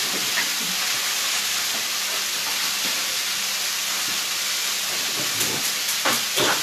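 Smoked mackerel crisps on a hot pan with a steady, loud hiss that holds throughout, plus a few scattered pops and crackles near the end.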